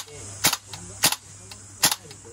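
A Tokyo Marui AKM gas blowback airsoft rifle fires three sharp, loud single shots about half a second apart, each a crisp snap with a short mechanical clack trailing behind it.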